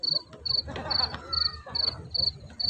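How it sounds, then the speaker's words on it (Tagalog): Loud, close field cricket chirps repeat in a steady rhythm of short trilling pulses, with a low rumble of outdoor noise and faint talk beneath, at the Al Khobar Corniche, Saudi Arabia. "Kuliglig ng bukid yan."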